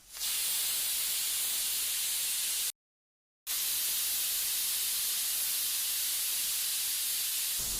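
A pressure cooker vents steam in a loud, steady, close hiss that cuts out briefly partway through and then resumes just as strongly.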